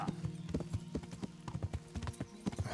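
Horse hooves clip-clop at a steady trotting rhythm in a medieval video game, fairly quiet, with a faint voice now and then in the background.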